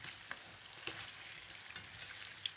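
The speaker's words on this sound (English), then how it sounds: "just give them a bit of a shake and just coat each potato in that oil" Potatoes sizzle and crackle in hot oil in a pan as they are shaken to coat, a steady close frying hiss with scattered pops and no voices.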